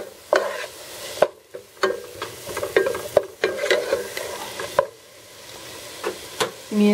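Lentil and walnut burger mixture stirred in a frying pan with a spoon, giving repeated scraping knocks over a steady low sizzle, close and fairly loud.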